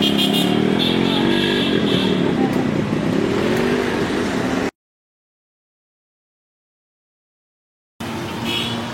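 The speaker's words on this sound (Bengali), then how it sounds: "এই তো এখন যে ভাইয়ের বাইক ওই ভাইটা টেস্ট ড্রাইভ দিচ্ছে" A Yamaha RX100 motorcycle on a test drive runs with a loud, close engine note that rises and shifts, cuts out to silence for a few seconds, then returns.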